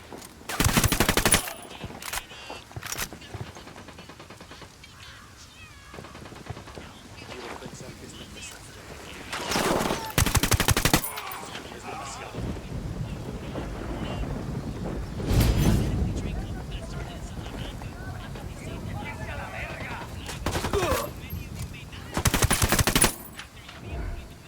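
Gunfire from the Ghost Recon Wildlands video game during a hostage rescue mission crackles in several short, loud bursts spread across the scene, with background game ambience and voices talking between the shots.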